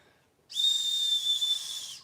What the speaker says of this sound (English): Well, it's got a whistle,